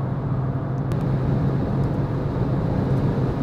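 Steady wind roar and road rumble inside a 2022 Renault Clio 1.0 TCe with X-Tronic transmission cruising at high speed downhill, a dense continuous rush with no talk.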